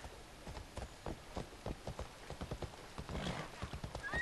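Phobos the horse gallops in Assassin's Creed Odyssey, a quick, regular run of hoof clip-clops with a brief whinny-like burst partway through, fairly close and clear with no talking.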